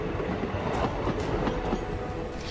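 DEMU passenger train running on railway track between Dumka and Bhagalpur, a continuous close rumble of wheels with rhythmic clickety-clack joints and faint rail squeal, no talking.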